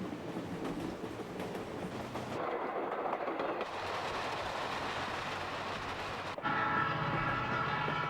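An Alaska Railroad passenger train runs on the rails toward Denali, a loud, steady rumble of wheels and cars, with a horn-like tone sounding near the end.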